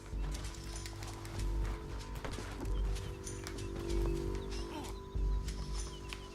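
A horse's hooves clip-clop and pound in Red Dead Redemption 2, with heavy thuds at irregular intervals over low rumbling game ambience, fairly close and loud throughout.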